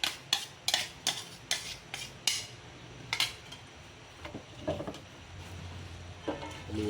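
A utensil stirs cream carbonara in a non-stick pan, giving a run of quick, faint scraping clicks, spaced irregularly, then a softer low sizzle near the end.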